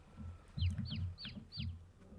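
Farming Simulator 22 chickens on a farm, a run of soft low clucks with repeated short descending chirps about every third of a second, close and moderately quiet with no talk.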